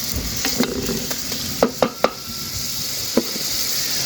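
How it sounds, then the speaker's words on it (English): Onions and garlic sizzle steadily in a pot on a small woodstove, a close, continuous frying hiss broken by a few sharp scrapes and clinks of a utensil stirring against the pot. "Onions and garlic, which you're going to just caramelise down a little."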